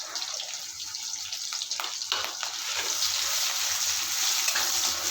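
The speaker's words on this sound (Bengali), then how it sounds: "ভালোভাবে ভাজা করে নেব" Chopped onions and green chillies frying in hot oil, a dense continuous sizzle with a few brief stirring scrapes early on, close up and steady, with no talking.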